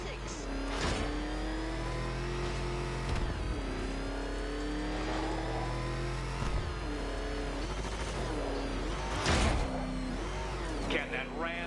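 The Batmobile's engine in Batman: Arkham Knight drones and revs steadily, rising and falling in pitch over a loud continuous rumble, with talk partly over it.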